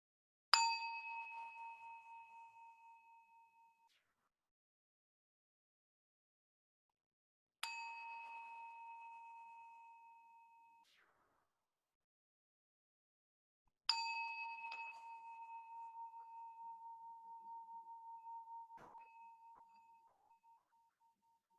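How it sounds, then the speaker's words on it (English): A singing bowl is struck three times, each strike giving a bright ringing tone that slowly fades, the last ring sustaining longest in otherwise silent surroundings. "when the bowl is done ringing"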